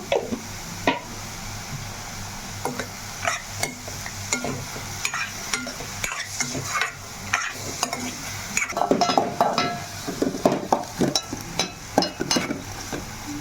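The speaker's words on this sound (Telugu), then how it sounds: "మనకు ఆనియన్స్ అయితే బాగా మగ్గుతున్నాయి కదా" Onions sizzle in a pan with a pinch of turmeric while being cooked down for chicken keema pulao, with repeated scraping stirs and light utensil clinks over a steady frying hiss, growing busier near the end.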